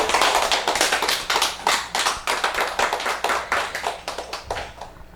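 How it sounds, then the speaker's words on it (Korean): Indoor audience at a Buddhism lecture giving a round of clapping, brisk and fairly close, with distinct claps fading off toward the end. "이제 박수 한번 치셔도 돼요"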